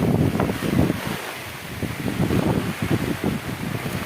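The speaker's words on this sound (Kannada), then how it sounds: "ಈ ಮಳೆ ಜಡಿ ಏನಿರ್ತದಲ್ಲ, ನೀರು ಸೀದಾ ಕ್ಯಾಮ್ರಾಗೆ ಬಂದು ಹೊಡೆಯುತ್ತೆ" Heavy monsoon rain in a Malnad village on the coast pelts a phone camera directly, making a dense, rough, continuous battering with gusty surges and brief lulls, close and loud throughout.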